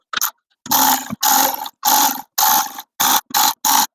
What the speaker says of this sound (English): Okay, back to the hand ratchet.